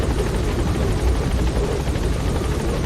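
Helicopter in the video game Metal Gear Solid 5, a close, loud, steady rotor thump and engine rumble holding evenly throughout.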